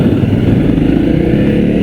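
Honda CRF250 Rally motorcycle ridden over rough road, a loud, steady engine drone close by with a continuous buzzing rumble and no talking.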